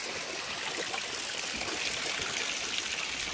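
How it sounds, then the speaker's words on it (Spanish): Water trickles and splashes continuously close by from small fountains in a plaza at Hacienda Santa María Regla, Huasca, a bright, steady babbling of small streams with no voices. "los corrimientos de agua, fuentecitas."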